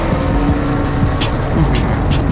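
Race car in a donk drag race, a big block against an LSX: a loud, steady engine roar filling the whole moment, harsh and close, with no voices.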